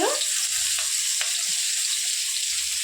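Cabbage, carrot and green chillies stir-frying in hot oil for spicy street-style paneer fried rice, a steady close sizzle running throughout with a few soft stirring knocks and no talking.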